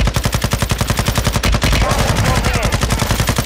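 Rapid, evenly spaced gunfire in the game Call of Duty Modern Warfare II hammers loud and close in a relentless automatic stream, with a brief scuffle of other battle noise midway.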